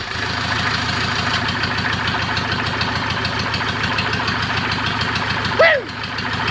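A junk-yard Kubota diesel engine runs with a steady, close, rhythmic knocking chug, and a brief voice cuts in near the end as the engine keeps going.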